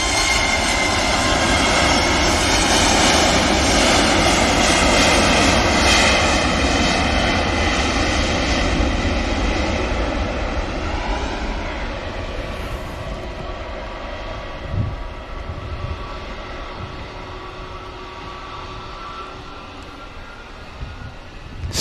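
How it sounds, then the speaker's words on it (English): A Swiss Airbus A320neo jet at Manchester Airport roars loudly with layered engine tones, then fades gradually as it moves away, leaving a quieter rumble with a few faint knocks. "Swiss 320 Neo now."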